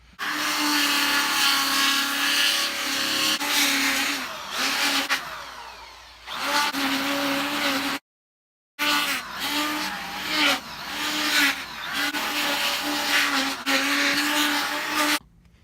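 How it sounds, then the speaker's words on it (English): A flap sander spins against a wooden soldier memorial carving, its loud, steady whirring grind running almost continuously with brief dips and one short full stop partway through. "When using the flap sander, I like to lock down the piece"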